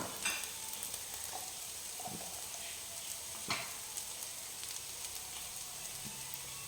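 Chili powder and pepper powder are stirred into a masala frying in a pan for karimeen pollichathu, giving a soft continuous sizzle with a few faint scraping strokes.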